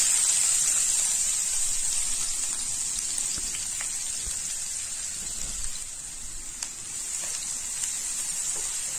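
Chopped onions fry in hot oil with cinnamon pieces, a bay leaf and black cardamom, giving a steady close hiss and sputter that starts loud and settles slightly, with no talking.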